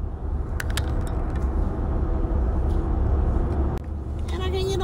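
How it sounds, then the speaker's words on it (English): A car driving around town, a steady engine and road rumble heard from inside the cabin, with a few brief clicks and a short high tone near the end. "Now I'm out here driving around."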